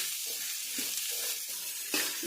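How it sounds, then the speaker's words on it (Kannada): Cauliflower and onion sizzle in a hot pan alongside tamarind-spiced cooking, with a steady close frying hiss and occasional stirring scrapes and bumps throughout. "ಈರುಳ್ಳಿ ಜೊತೆ ಚೆನ್ನಾಗಿ ಫ್ರೈ ಆಗಿದೆ ಹೂಕೋಸು."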